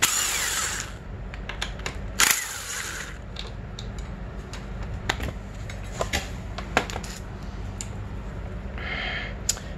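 A power tool removes the front brake caliper bolts on a 2003 Honda CR85R motorcycle, with short whirring bursts among sharp metallic clicks and rattles in a quiet workshop.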